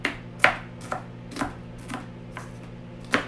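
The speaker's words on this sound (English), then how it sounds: "So I'm chopping some onion," Knife chopping onion for a riced cauliflower stuffing, heard as about eight sharp, evenly spaced chops on a cutting board over a steady low hum, close and fairly loud with no talking.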